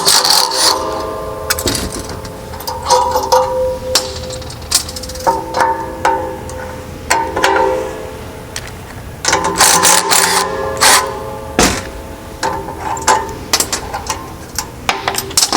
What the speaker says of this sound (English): We're simply going to hold the nut in the back and we're going to take it apart, like so.